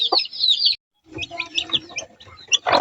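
Nine newly hatched chicks peeping in high, rapid chirps, bursting repeatedly close by, with a brief silent gap and lower clucking or rustling from older chickens mixed underneath.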